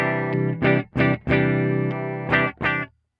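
Electric guitar with neck and bridge pickups blended, played raw and slightly driven: a few strummed chords and short stabs ringing close and clear, ending in silence, with no talk.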